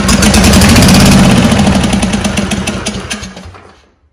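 Briggs & Stratton 22hp Intek engine on a John Deere mower, faulty with sputtering and backfiring, running loud and near at full throttle with a throbbing pulse, then winding down and dying out after about three and a half seconds.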